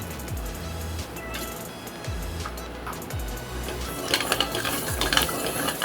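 Masala sizzles in a pan for egg bread upma while a spatula repeatedly scrapes and stirs it in a steady rhythm, close up, with no talking.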